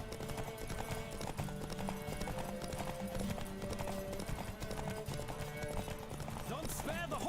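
Rapid clip-clop of a galloping horse in The Witcher 3 during a race, steady hoofbeats under game music, with a brief whinny near the end.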